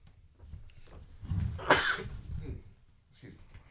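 A single sharp sneeze bursts out during a podcast, preceded by a quick inhale, with faint voices murmuring around it.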